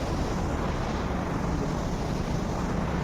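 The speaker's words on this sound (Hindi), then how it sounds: "पानी बह रहा है कितना तेज़" Fast water rushing through the open gates of a long canal at the Bargi Dam, a steady loud roar with broadband rumble and no pauses.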